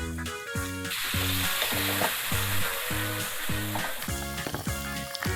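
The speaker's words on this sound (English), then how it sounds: "Listen to that fizzle." Soda fizzing with strawberry Pop Rocks: bright crackling and fizzing hiss, close and continuous, over a regular pulsing tonal beat of music.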